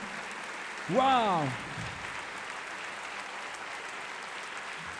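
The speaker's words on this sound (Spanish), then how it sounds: "Le damos un fuerte aplauso." Steady applause from an audience at a church concert, heard as an even wash of clapping, with a voice briefly exclaiming loudly over it near the start.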